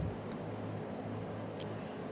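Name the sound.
flying boat radial engine in flight simulator video game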